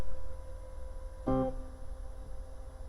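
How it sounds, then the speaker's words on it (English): A constant hiss and low hum from an idle Ammoon Pockamp 80 guitar amplifier, reverb maxed out, fill the background, broken once by a brief plucked, tuned tone. "It's just a very high noise floor."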